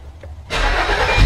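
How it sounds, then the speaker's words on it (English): A car engine cranks and catches after a moment of near silence, then settles into a loud, steady running roar. "Oh, Mama's car is loud."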